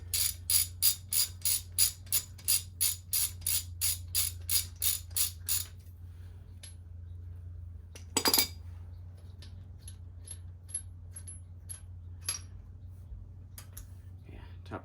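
A hand ratchet with a Lexivon lug socket turns a slightly rounded lug nut, giving a fast run of loud, even clicks up close, then a sharp clank and scattered faint ticks against low background hum.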